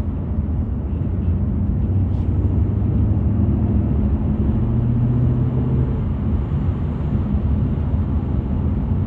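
A BMW M850i drives at speed in comfort mode, with a smooth, steady low engine drone and road roar filling the cabin throughout, no voices heard.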